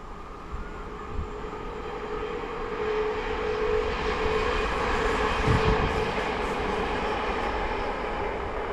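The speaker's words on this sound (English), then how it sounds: "That was a Northern Line train service to Manchester Piccadilly" A Northern train service bound for Manchester Piccadilly passes by on the line, a loud continuous rumble and roar that swells toward the middle and stays heavy throughout, with no talking.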